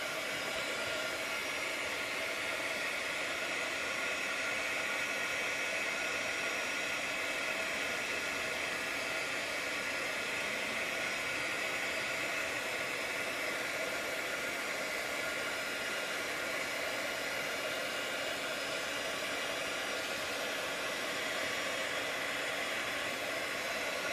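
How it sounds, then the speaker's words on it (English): A heat tool runs steadily for the full length, melting embossing powder on paper leaves in a papercraft project: a constant, loud, breathy whoosh like a hair dryer, close and uninterrupted, with no talking. "Okay, so I'm going to heat set my leaves."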